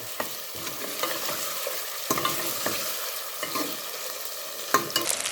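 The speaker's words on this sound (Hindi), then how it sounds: "हम इसके फ्लेम तेज़ करके तो अब इसकी अच्छी सी भुनाई करेंगे और अब हम इस सबको मिक्स कर लेंगे" Ginger and garlic paste frying over a high flame in a pan for a mutton stew, giving a continuous close sizzle punctuated by repeated scraping and tapping of a spoon as it is stirred.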